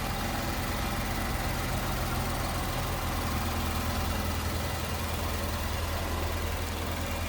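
A 2016 Infiniti Q50 Red Sport with a 3.0-litre twin-turbo V6 and all-wheel drive idles steadily, producing a continuous, even engine hum close by with no talking.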